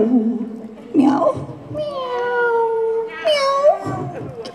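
Voices at a final concert imitate cat meows, a string of sliding, wavering miaows sung one after another, loud and close, with rising and falling pitch.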